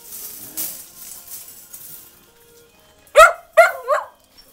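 Dogs give three sharp, close barks in quick succession near the end, after a stretch of faint rustling and quiet background sound.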